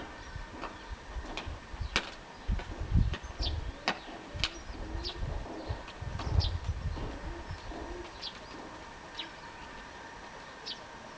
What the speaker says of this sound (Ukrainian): Два голуба.